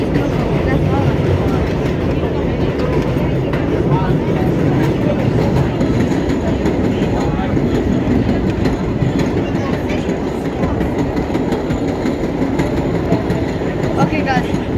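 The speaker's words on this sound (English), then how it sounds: "I'm on an R32 train." R32 subway train riding the rails on a front-window ride to Kings Highway, a loud continuous rumble and rattle of wheels on track that carries steadily throughout, with no breaks.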